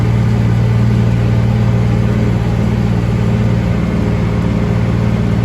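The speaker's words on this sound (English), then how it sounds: "The noise is a lot better. We never had a muffler on this tractor." A loud, steady tractor engine fitted with a muffler drones with a deep, muffled rumble, running continuously at an even pace close by.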